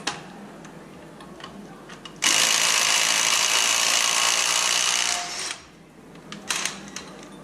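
A Ryobi cordless impact wrench fitted with a 24mm socket rattles loudly against the crank bolt on a worn, hard-raced LS1 V8, a continuous three-second burst, then winding down, with tool handling clicks before and after.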